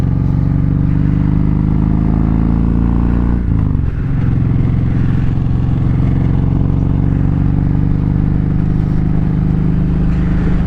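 Deep, loud exhaust drone from a Kawasaki Vulcan Voyager motorcycle with Sharkroad mufflers at steady cruising, broken by a brief dip around a gear shift before the rumble resumes.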